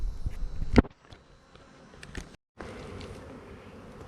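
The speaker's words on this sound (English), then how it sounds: "A lot of bees down in there, but they're starving." Honey bees buzz around open hives on a tailgate, a dense insect hum with a sharp close pass near the start, a brief gap, then a steady swarm drone resuming.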